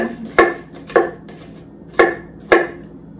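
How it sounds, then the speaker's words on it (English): Four sharp knife chops on a cutting board, likely garlic or onion, land at an uneven pace with short gaps between, close and fairly loud with no voices. "So be sure to be doing some chopping."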